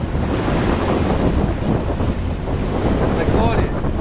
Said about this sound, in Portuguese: a força da água aqui.